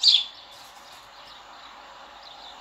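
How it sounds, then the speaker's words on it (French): Small birds chirp outdoors on a calm morning, one brief clear call at the start and then faint scattered tweets over a steady soft background. "Accueilli par des petits oiseaux."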